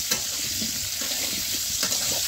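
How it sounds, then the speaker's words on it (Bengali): Potatoes frying in oil in a wok, a steady close sizzle with light stirring scrapes throughout, no talking. "কড়াইতে আলু দেওয়া হচ্ছে, আলুটা ভেজে নেব।"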